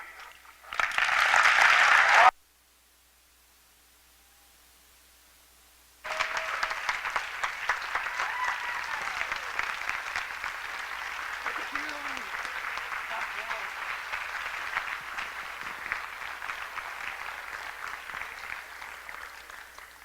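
Poetry slam crowd breaks into a short loud burst of clapping that cuts off into near silence, then resumes as a long, sustained round of applause with faint cheers scattered through it.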